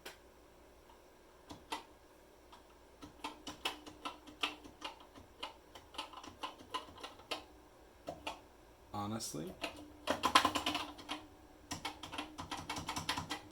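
Keys clatter on a Commodore SuperPET keyboard being tested during a retro repair, in irregular close clicks and short runs that grow denser and louder toward the end, with a brief spoken remark partway through.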